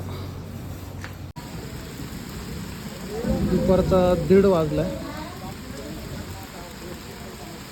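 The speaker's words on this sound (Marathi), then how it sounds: "पाऊस सुरू झाला" Steady rain hisses in the background throughout on a roadside along the Narmada pilgrimage route, while a person speaks briefly in the middle.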